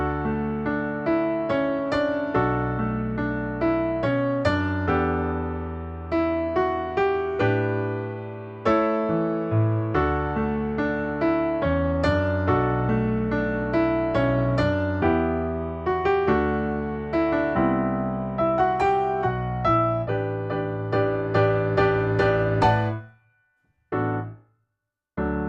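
Solo piano plays a song, a slow ballad verse with sustained chords and a melody line, close and clear, ending in a pause and a couple of final notes.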